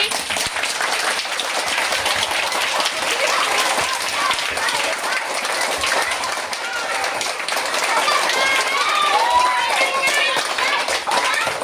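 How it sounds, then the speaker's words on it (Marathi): Children clap together in steady, busy applause lasting several seconds, with scattered excited voices mixed in the noisy crowd sound. "टाळ्या त्यांच्यासाठी"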